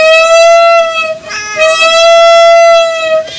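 A storyteller's voice imitates a cat's meow with one drawn-out, wavering mew, rising and falling in a slight break midway. The imitation is close and loud, with no other sound around it.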